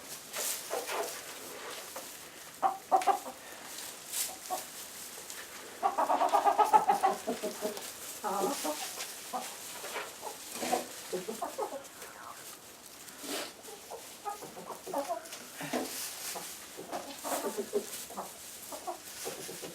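Backyard chickens cluck and murmur close by, with scattered short calls and one louder burst of squawking partway through. A person talks over them now and then.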